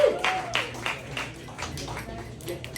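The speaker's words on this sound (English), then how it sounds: "give him some applause right now as he comes to the stage" Applause and whoops from the audience at a comedy club as a comedian comes to the stage, with scattered claps and voices in the crowd, moderately loud and fading slightly.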